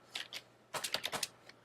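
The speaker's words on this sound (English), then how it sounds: "I'm typing here" Keystrokes on a computer keyboard: a couple of isolated taps, a short pause, then a quick close burst of several clicks and a final lone tap, quiet and without talk.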